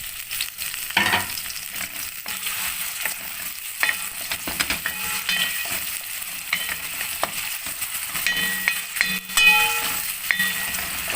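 Chopped onion fries in hot oil with whole dry spices, a crackling sizzle with scattered pops and stirring scrapes, moderately close and continuous.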